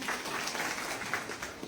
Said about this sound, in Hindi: हमारे मोदी जी की जोरदार ताली बजाए